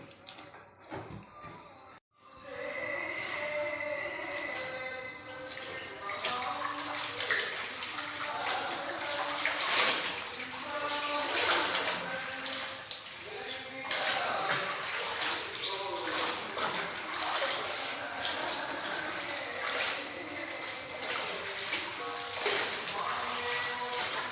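Fabric dyed with manjistha sticks is washed by hand in water, giving continuous sloshing, splashing and dripping close by for the whole stretch, with brief louder swishes.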